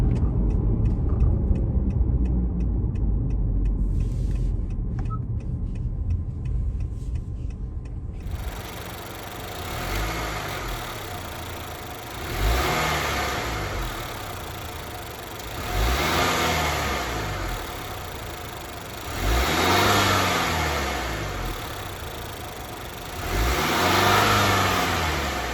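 A car engine on its stock exhaust revs up in about four swelling pulls, each rising and fading, after a stretch of muffled road and wind noise, heard alone without talk.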